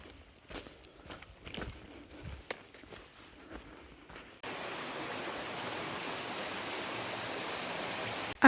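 Black Brook, a stream beside an Appalachian Trail campsite, rushes in a steady broadband wash after a stretch of quieter footsteps and rustling, flowing loud and continuous to the end.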